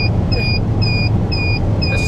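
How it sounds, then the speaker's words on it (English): The seatbelt warning in a JMC Vigus Chinese 4x4 bakkie pickup: five evenly spaced, high electronic beeps in steady rhythm over a low, constant engine rumble, with no talking. "you get this beep, beep, beep for your seatbelt, which is the most annoying beep on the planet"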